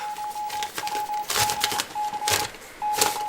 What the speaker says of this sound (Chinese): 这是毛主席的电报